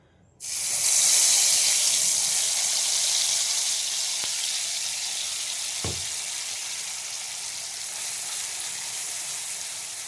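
Onion paste drops into hot oil and ghee in a frying pan with a sudden loud sizzle that stays strong at first and then eases slightly into a steady crackling hiss, close up and without talk.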